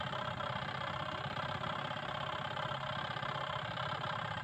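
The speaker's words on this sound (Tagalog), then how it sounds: "Kung nagpapalit-palit yung ikot ng motor natin." Eureka washing machine motor running steadily during a timer test after a timer replacement, a continuous close mechanical hum with a faint rhythmic vibration.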